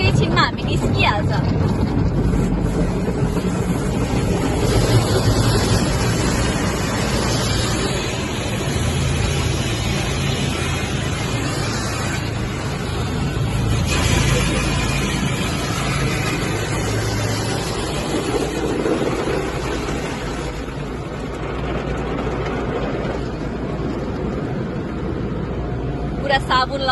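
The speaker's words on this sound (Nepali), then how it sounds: "पुरा साबुन लगायो अब पानीले धोइरहेछ अनि अगाडि गएर सुकाउँछ पनि" An automatic car wash sprays water and soap over a car from inside the vehicle, a continuous loud rushing and hissing wash with machinery rumble, while a person talks over it.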